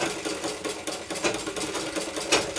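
A sewing machine runs steadily, stitching a double-folded seam on a child's A-line frock, a fast even mechanical whir with slight pulses, fairly quiet and close.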